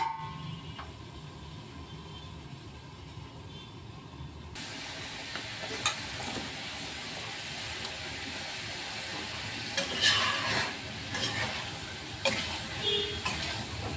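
Jackfruit curry sautéing and being stirred in a pan, a steady sizzling hiss with scraping stirs and a few louder clinks near the end, close and continuous with no talking.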